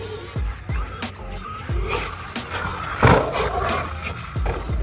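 Kraton 8S RC car tearing around a skatepark, its electric motor whining up and down in repeated bursts with thuds and scrapes from landings, close, with faint background voices.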